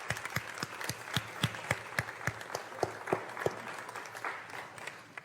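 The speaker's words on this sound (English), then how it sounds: "let's give them a round of applause" A church congregation applauds its teachers during a Sunday homily, steady dense clapping with sharper individual claps standing out, moderately near and continuous throughout.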